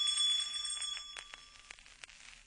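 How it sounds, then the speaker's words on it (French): Small tinkling bells ring as a page-turn cue for a children's story of Bambi, a bright shimmering jingle at first that thins into scattered light chimes. "Elle fera tinter ses petites cloches comme ceci."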